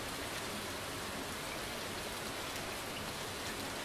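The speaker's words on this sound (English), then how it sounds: "It's raining." Steady, even rain in the video game Stardew Valley hisses without pause, a dense wash of falling drops with no voices or other sounds.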